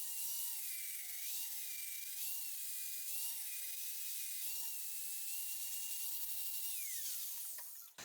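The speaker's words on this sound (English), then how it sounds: "Now this is a moderately worn flat disc, so it's not going to take up too much material" A 40 grit flat disc on a high-speed grinder whines steadily against a wooden hammer handle, pitch wavering slightly as pressure changes, then spinning down at the end.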